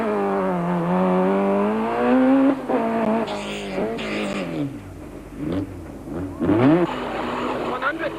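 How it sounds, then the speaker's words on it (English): A Ford rally car's engine revs hard on a rally stage in 1992, rising and dropping through gear changes close up inside the car, while a navigator calls notes over it. "relived by Glyn Hall, who we now join in car with navigator Martin on stage 10"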